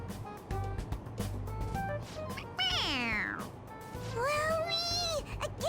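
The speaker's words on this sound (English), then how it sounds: "It meows when you press on its head." A toy cat in the Persona 5 Royal video game gives two distinct meows when its head is pressed, heard over game background music with some talking around it.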